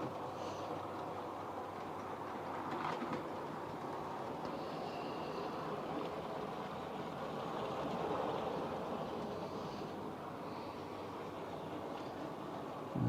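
Murphy's Models model trains roll over double slip points, making a continuous low rumble with soft clicks and rattles that swell and fade.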